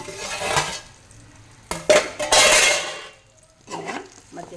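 Mutton paya fries in a metal pan as a spoon stirs and scrapes it, with loud clattering strokes and bursts of sizzle separated by brief pauses, close by.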